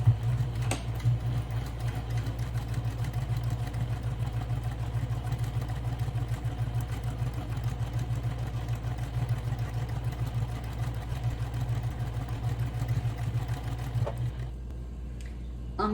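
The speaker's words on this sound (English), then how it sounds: "So let's head on to the sewing machine." A sewing machine runs steadily stitching fabric for a homemade eco bag, a continuous close mechanical hum and rapid needle patter holding for most of the stretch before easing off near the end.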